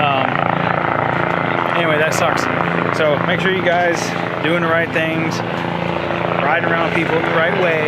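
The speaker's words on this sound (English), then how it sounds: "you can probably hear the helicopter in the background" A life flight helicopter flies overhead at a motorcycle trackday, its rotor drone steady and loud throughout beneath someone talking close by.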